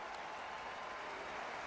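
A sold-out baseball crowd at Nationals Park gives a steady, distant wash of cheering and murmur with no distinct voices standing out.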